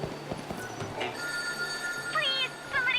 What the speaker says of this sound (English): Why isn't anyone answering the phone?